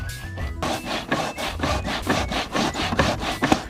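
Cassava grated by hand on a grater outdoors: a steady run of rhythmic scraping strokes, close and fairly loud, repeating evenly, with no voices.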